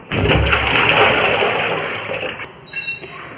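Kulekhara greens are washed in water, with loud close splashing and pouring that eases into a softer trickle near the end.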